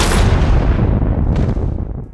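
A single loud gunshot from a film scene, a sharp crack that leaves a rumbling tail lasting about two seconds.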